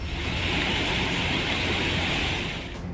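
The swollen Alaknanda river roars at Srinagar during relentless heavy rain after a cloudburst, a loud, continuous wash of churning waves and rushing water with a slight easing at the very end.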